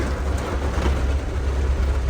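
Steady rain falls outdoors during mulberry picking, a constant dense hiss with low rumbling underneath, close and unbroken.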